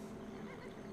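A horse neighs in the video game Civilization V, a short, faint whinny over a steady low tone with no talk.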